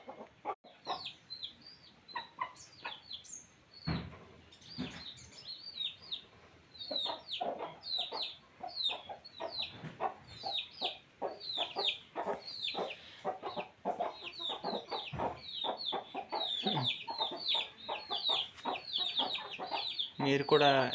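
A mother hen clucks steadily to call her young chicks, a close, continuous run of short clucks and calls with faint peeps throughout, louder toward the end.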